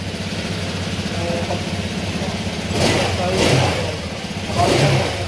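A 125cc motorcycle engine converted to a larger displacement idles with a steady chug, then revs up in two louder bursts, with a voice heard briefly over the engine.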